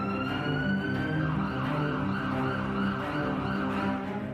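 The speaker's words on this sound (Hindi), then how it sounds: "शहर में सायरन का शोर रह रहकर सुनाई दे रहा है।" A wailing city siren in Taiwan rises and falls in pitch, continuous and moderately distant, layered over the low hum of traffic.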